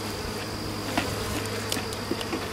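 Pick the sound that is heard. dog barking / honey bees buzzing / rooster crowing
honey bees buzzing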